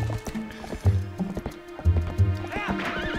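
Hooves clip-clop in quick, uneven beats as a horse is ridden in Zelda: Twilight Princess, with splashy, watery steps and a brief whinny-like sweep near the end, loud and close.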